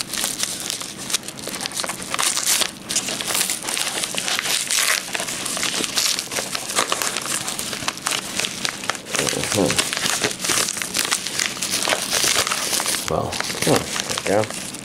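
Plastic wrapping on an anime DVD package crinkles and crackles loudly up close as it is cut open, in a long run of irregular rustles while someone talks over it.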